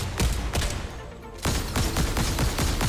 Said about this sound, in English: So the thermal DMR shoots way faster